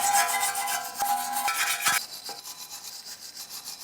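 A brush scrubs loose, flaky rust off the brake hardware of a 2002–2007 Honda Accord, a close, raspy rubbing in quick back-and-forth strokes that eases off after a couple of seconds.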